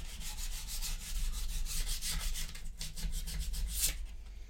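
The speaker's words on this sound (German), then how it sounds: "Wir schleifen das hier nochmal ein bisschen ab" Steady rasping of sandpaper rubbed back and forth over wood, close up and continuous, with a rhythmic scratchy texture.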